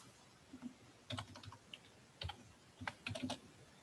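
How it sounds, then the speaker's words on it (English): Someone types a number on a computer keyboard, a few quick clusters of soft key clicks with short pauses between them, close and fairly quiet with no talking. "So you're going to type that in here."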